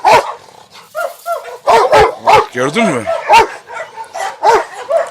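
Rottweilers barking and growling at each other, a deep bark and yips repeating in bursts fairly close, mixed with someone talking over them.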